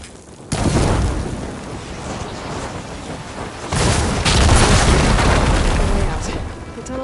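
Blaze barrels in Horizon Forbidden West blow up after being hit with fire ammo, giving loud, heavy booms that roll on into a sustained roar, with a second surge of explosive rumble partway through.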